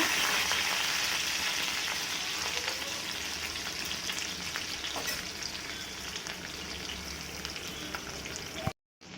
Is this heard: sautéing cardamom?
yes